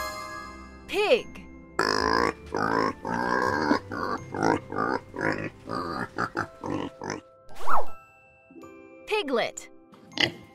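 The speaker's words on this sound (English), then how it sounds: "Pig." A pig grunts and oinks in a string of short, close, repeated bursts, with a child-like voice and a faint tinkling sound also present.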